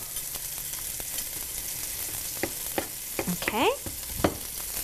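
Mushrooms sizzle steadily in a hot pan, broken by a few scraping stirs of a utensil near the end; someone briefly speaks once.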